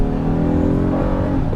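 A 2022 Honda Odyssey Elite minivan engine revs hard under acceleration, a loud, steady, close droning roar with layered harmonics and no talk over it.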